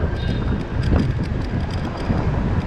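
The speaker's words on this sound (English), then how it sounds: "the wind really started kicking up now" Strong wind roars into the microphone during a bike ride through Philadelphia streets, a loud, continuous rumbling buffet that masks other sound.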